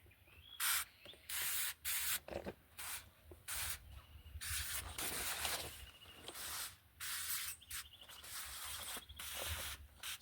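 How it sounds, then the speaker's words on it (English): Hand sprayer misting insecticide onto cabbage leaves outdoors, in repeated short loud hissing bursts with brief pauses between them, close to the microphone. "I spray the insecticide inside."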